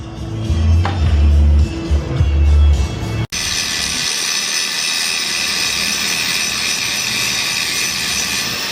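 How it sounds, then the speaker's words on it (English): An angle grinder grinds down a welded steel EGR block-off plate, producing a steady, loud, hissing whir that runs without a break after a rumbling start. "a little bit of using angle grinder to grind it down"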